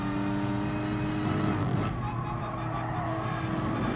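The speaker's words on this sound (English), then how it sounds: "Really, really nice handling car, the Porsche Cayman." A Porsche Cayman in the racing game GT Sport drones with a continuous engine note at steady revs during a race at Maggiore, with faint tyre noise and no talking.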